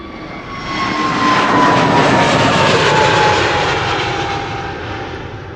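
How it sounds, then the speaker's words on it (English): An EasyJet Airbus A320neo jet departing Schiphol passes by, its engine roar swelling steadily from a distance to a loud, broad rush with a whining tone, then slowly easing off, with no talking. "We're missing out on an A320neo from EasyJet going to Funchal, which you are hearing pass by me now."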